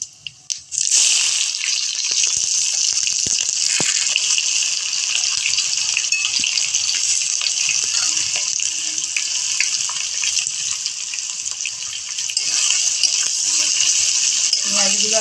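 Onions drop into hot oil with bay leaves and dried chilli and fry with a sudden loud, hissing sizzle that stays steady and bright for the rest of the stretch.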